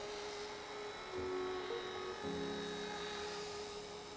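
A small remote-control toy helicopter flies nearby with a steady, high-pitched electric whine, its motor pitch rising briefly as it maneuvers; no talking is heard.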